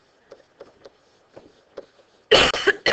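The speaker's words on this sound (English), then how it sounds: "apologize for the cough" Several small, muffled throat noises come first, followed by a loud, harsh burst of coughing close to the microphone at the end.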